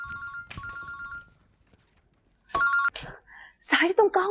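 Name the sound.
mobile phone ringing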